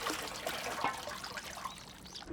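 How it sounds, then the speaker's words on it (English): Water trickles and splashes in a village stone tank in a Japanese satoyama village where pots are rinsed, a close, soft, continuous dribble with small irregular splashes. "People rinse out pots in the tanks and clean their freshly picked vegetables."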